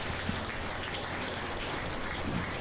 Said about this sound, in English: Give all the exhibitors a nice round of applause on a good set of red Barrows.